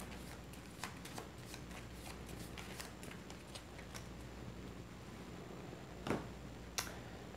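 A board game deck of cards is shuffled close by, a soft continuous papery riffle under quiet room tone, ending with two sharper snaps of the cards.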